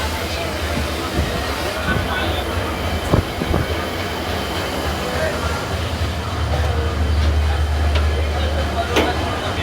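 A Shalimar to Puri train waits at the station with a low rumble and occasional metallic clanks and wheel squeals, while people chatter nearby.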